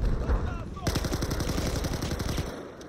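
Rapid automatic gunfire from a weapon in the video game Battlefield 4 rattles off in a fast, evenly spaced burst of loud shots lasting under two seconds, with game ambience before and after.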